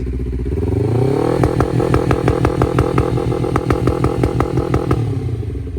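Honda CBR250RR motorcycle engine revving hard and climbing through rapid repeated rises in pitch during a speed test, loud and close, with a busy, buzzy high-revving roar and no talk.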